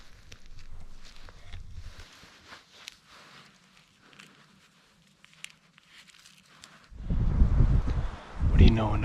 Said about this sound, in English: another windy day in Kansas